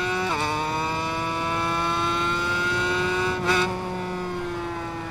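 A 250cc two-stroke Grand Prix motorcycle engine on the Kyalami circuit in RIDE 5 whines at high revs, holding a steady buzzing pitch with brief dips at gear shifts, loud and close with no talk.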